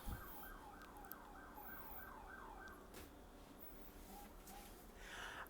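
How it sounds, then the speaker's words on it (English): Emergency sirens wailing at a distance, a repeating up-and-down siren sweep through the first half, faint under steady outdoor background noise. "They're called the sirens. I can never do a video without the sirens interfering."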